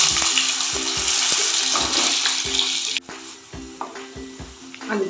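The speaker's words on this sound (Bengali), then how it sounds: "এবার ওই তেলের মধ্যেই আমি কটা আলু ভেজে নেব" Potatoes frying in hot mustard oil in a home kitchen, a steady close broadband sizzle with faint stirring knocks, dropping to a quieter crackle partway through.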